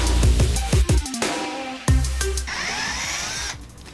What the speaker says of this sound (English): Drill this thing out.